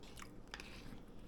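Someone chewing a mouthful of hamburger bacon casserole up close: soft wet mastication with a couple of brief crunchy bites, no talking.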